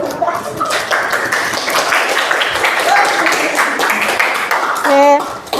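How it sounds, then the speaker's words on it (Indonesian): A class applauds a presenting group, steady clapping from many hands filling the room for several seconds. Voices chatter underneath. "kita beri tepuk tangan untuk kelompoknya Mbak Naila"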